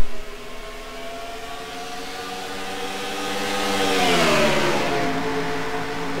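Race cars at Kansas in a racing video game, engines droning together with a rising pitch as they accelerate from the green flag, a loud sustained multi-car whine that swells near the end.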